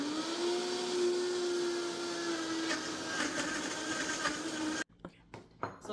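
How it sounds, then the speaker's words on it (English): A blender whips banana and other breakfast bowl ingredients with a loud steady motor whine that holds for nearly five seconds, then stops abruptly, leaving faint clatter and handling noises. "Start your blender."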